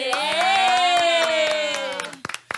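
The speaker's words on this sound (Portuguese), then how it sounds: "auditório, para dar uma salva de palmas" A studio audience on a talk show claps in quick, steady beats under a long, drawn-out voice. The voice then drops away, leaving a few louder, looser claps at the end.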